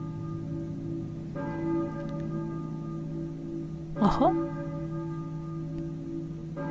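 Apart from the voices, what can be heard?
church bell ringing in the video game Silent Hill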